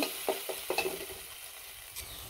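Chicken pieces frying with ginger and garlic give a soft, close sizzle, with a few light scrapes of stirring at the start and again near the end.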